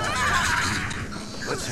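A horse neighs and whinnies in Elder Scrolls Online, a loud, close, wavering high-pitched call that fades over a second or two.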